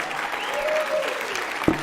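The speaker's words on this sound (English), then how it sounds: "Round of applause for Lucas, everybody." A crowd applauds steadily at a UFC Hall of Fame induction for Michael Bisping, a dense, even burst of clapping that fills the short moment.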